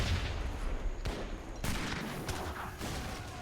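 Musket volleys crackle in an Age of Empires 3 battle, a dense, fairly loud fusillade of overlapping shots with a few sharper bursts standing out over the steady din of combat.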